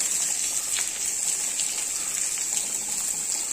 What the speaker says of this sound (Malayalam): എണ്ണ ഒഴിച്ച് കരിവേപ്പില, 2 ചെറിയ ഉള്ളി, കുറച്ച് വറ്റൽമുളകും ഇട്ട് കടുക് വറക്കാം.